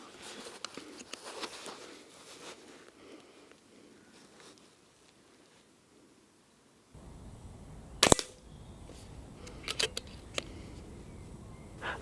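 An FX DRS Classic synthetic .177 air rifle fires, giving a sharp close crack about two-thirds of the way through, followed by quieter clicks and handling noises from the rifle; the first half holds faint rustling and near silence.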